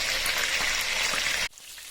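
Tilapia fish pieces frying in oil, a bright hissing sizzle that holds steadily for about a second and a half, then cuts off abruptly to a quiet background.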